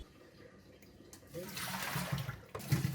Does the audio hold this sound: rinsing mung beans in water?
yes